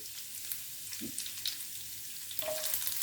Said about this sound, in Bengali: কুচনো কাঁচা লঙ্কা দিয়ে হালকা করে নাড়িয়ে নেব